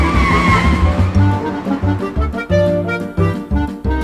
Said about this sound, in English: He can drive off in my car.